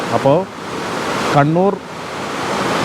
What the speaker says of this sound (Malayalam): വെള്ളച്ചാട്ടത്തിൻ്റെ സൗണ്ടൊക്കെ കേട്ട്